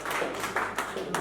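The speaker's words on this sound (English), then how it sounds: "So a big round of applause." Audience applause at a winter fishing championship prize-giving at Tunnel Barn Farm, a short burst of dense clapping from a crowd, steady and moderately loud.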